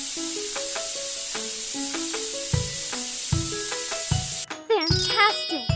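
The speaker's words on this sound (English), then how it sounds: "Try the steam machine." A hair steam machine in a makeover salon video game hisses steadily beneath a plinking game melody, then a brighter sparkly burst of effects comes near the end.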